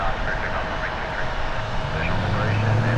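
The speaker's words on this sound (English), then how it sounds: "Embraer 195 E2, about to depart on runway 23 here at Toronto Pearson" An Embraer 195 E2 jet departs on a runway at Toronto Pearson airport, its engines giving a steady, loud broadband roar that swells slightly toward the end, with faint background murmur.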